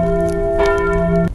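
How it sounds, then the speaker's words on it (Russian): A church bell strikes once near and loud in a burning-town scene, its tone humming with steady sustained overtones that ring on and then cut off abruptly. "Зазвонил колокол."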